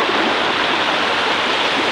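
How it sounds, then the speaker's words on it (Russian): A forest river rushes steadily in a loud, close, continuous wash of flowing water, with no talking. "вот река, местами глубока"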